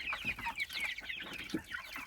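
Chicks and ducklings in a brooding box, including muscovy ducklings, cheep and cluck in a steady stream of small high calls, close by and moderately loud, with no talk.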